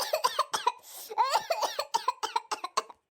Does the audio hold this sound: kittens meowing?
no